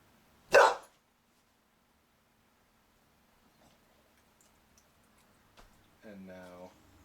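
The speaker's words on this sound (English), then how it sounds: "Delilah, can you bark?" A trained pet dog gives a single loud bark on command near the start, followed by quiet and then a short burst of human speech at the end.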